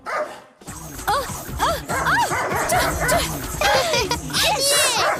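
Dogs barking and yipping repeatedly at close range in a dramatic household scene, the barks loud and continuous over a bed of background music.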